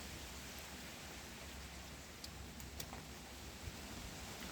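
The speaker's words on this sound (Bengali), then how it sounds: "বৃষ্টি পড়ে একটু একটু, খুব বেশি বৃষ্টি হয়েছে তো এখনও একটু একটু আছে।" Light rain falls steadily over a garden on a wet August day in London, a soft continuous hiss with a few faint drips, steady and even throughout with no voices.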